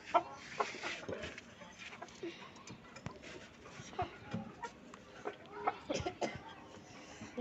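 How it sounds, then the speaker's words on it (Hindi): Golden puff hens and a seal fighter rooster cluck in short, scattered bursts at a bird enclosure, fairly faint and irregular, with a voice now and then among the birds. "यहाँ पे ये जो है इनके पास एक सील फाइटर मुर्गा है।"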